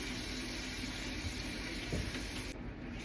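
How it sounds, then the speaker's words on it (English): Water runs steadily from a kitchen tap as a hand is rinsed under it, a constant close hiss with a faint splash near the end. "I am going to have to rinse my hand."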